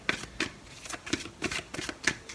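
Oracle cards from an Energy Oracle deck are shuffled in quick, rhythmic bursts, about seven papery riffles in a couple of seconds. The sound is close and alone, with no talking.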